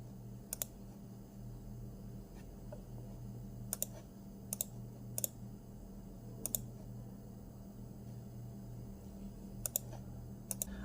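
A computer mouse clicking while a lecture extension is used, with sharp, isolated clicks in small clusters over about eleven seconds against a steady low electrical hum, no voices.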